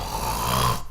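A storyteller's voice imitates a wolf snoring very loudly in bed, one long, rough, drawn-out snore that fills nearly a second before cutting off.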